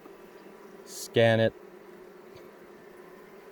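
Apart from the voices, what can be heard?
bees buzzing on honey frame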